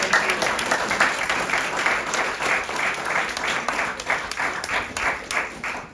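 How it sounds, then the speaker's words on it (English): An audience applauds after a poetry reading, sustained, fairly loud clapping from a room full of people with a steady wash of hands and a few sharper individual claps. "Can we have a round of applause?"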